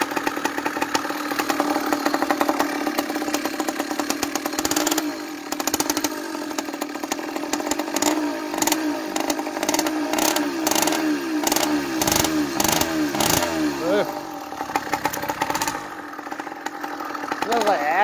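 A 49mm iron-sleeve small engine converted to run on pure ethanol idles with a raspy, buzzing drone, then revs in repeated rising and falling surges, loud and close, with a voice talking at points.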